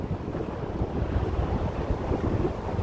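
Strong wind gusting on Lake Washington from a bass boat: a continuous low roar and buffeting rumble of wind across the microphone, mixed with lapping water, steady and close.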